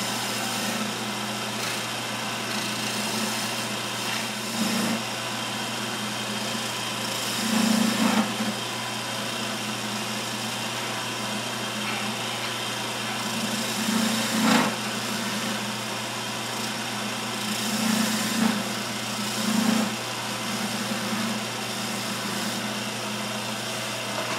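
A wood lathe spins a chair spindle with a steady, continuous motor drone, while intermittent tool contact adds brief rougher bursts of cutting noise.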